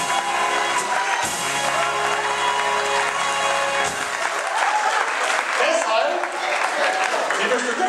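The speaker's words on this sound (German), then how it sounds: "Applaus" Sustained audience applause fills a carnival gala session hall, dense and steady throughout, with low musical or hum tones underneath for the first few seconds.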